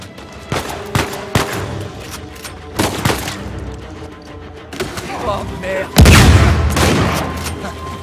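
Shotgun blasts in Uncharted 4 ring out as several sharp, loud reports spaced a second or two apart, followed by a bigger booming burst near the end, with someone talking over the gunfire.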